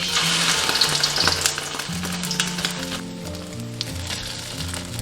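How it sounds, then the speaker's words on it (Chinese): Tofu pieces coated in beaten egg hit hot oil in a wok and sizzle loudly, a bright crackling hiss that eases slightly over time while a utensil occasionally scrapes and taps the pan. "豆腐沾1层鸡蛋液，再下去煎。"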